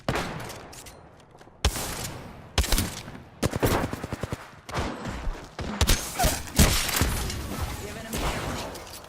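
Rapid automatic gunfire and sharp single shots from the Apex Legends video game, loud bursts repeating in clusters with brief gaps, mixed with impacts and thuds.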